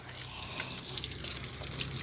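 Water runs in a soft, steady trickle, faint and continuous with no other sounds.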